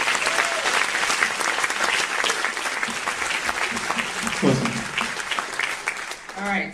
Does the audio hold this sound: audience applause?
yes